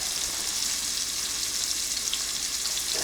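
Onions stir-frying in a big pot give off a steady, dense sizzle that stays fairly loud and even throughout, with no voices over it.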